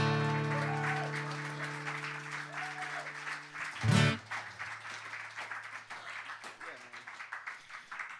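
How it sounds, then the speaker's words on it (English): Audience applause at a house concert, broad and fairly steady across the whole stretch, with a brief louder burst midway as instruments fade out and a voice speaks over the clapping. "Thanks for applauding."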